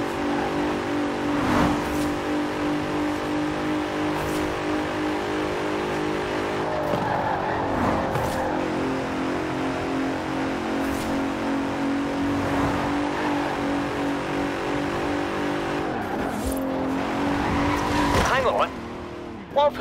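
A GT race car in Forza Horizon 4 drones at steady high revs, with gear-change dips, occasional tire squeal and skidding through corners. Someone talks over the close, continuous engine note.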